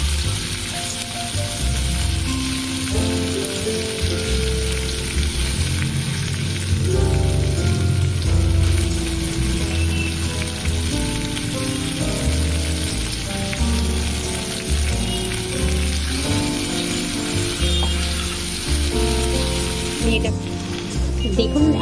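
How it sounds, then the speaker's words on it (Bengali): Paneer pieces just flipped in a pan sizzle and crackle over a medium-low gas flame while broccoli with paneer is being cooked, a steady, close frying hiss under a person's talk. "সমস্ত পনিরগুলোকে আমি উল্টে নিচ্ছি।"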